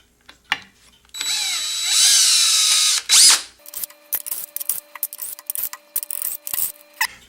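A power drill driving bolts into an aluminum segmented bowl setup, sustained whirring runs followed by rapid ratcheting clicks as the slip clutch engages, close and loud, with some quiet gaps.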